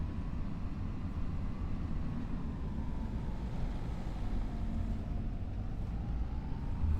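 A tractor drives steadily in Farming Simulator 25, its engine a constant low drone with a faint tone that slowly glides, continuous and unbroken with no voices.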